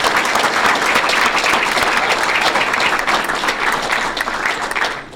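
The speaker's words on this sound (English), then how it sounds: "Let's give them a big round of applause." An audience at a Federal Way city council meeting gives a big round of applause, a dense, loud, continuous patter of many hands that carries on steadily before cutting off at the end.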